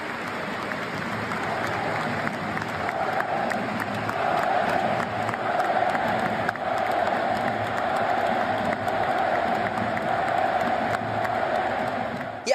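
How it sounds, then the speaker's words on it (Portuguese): A stadium full of French fans applauding and shouting, a dense, sustained roar of clapping and cheering voices that swells and holds across the whole stretch, distant and reverberant. "aplausos e um estádio cheio de torcedores franceses gritaram o nome de Pelé"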